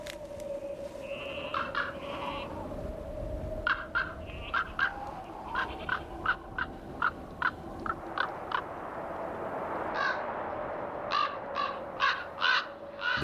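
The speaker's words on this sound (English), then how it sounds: "It ignores the mobbing of the ravens" Ravens call repeatedly in the Rocky Mountains while mobbing a golden eagle, giving a series of harsh, clipped caws in irregular bursts at moderate distance over a steady outdoor background hum.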